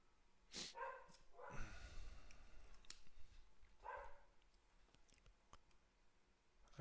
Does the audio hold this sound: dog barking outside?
yes